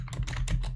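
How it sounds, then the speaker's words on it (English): Rapid keystrokes on a computer keyboard, a steady run of close, crisp clicks over a low background hum. "Alright, just typing some things."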